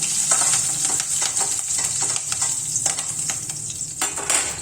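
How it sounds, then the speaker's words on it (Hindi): Green chillies sizzle in hot oil in a pan for sabudana khichdi, a constant bright crackle with light stirring taps throughout, close and moderately loud. "अब मैं इसमें हरी मिर्च डालूंगी सबसे पहले।"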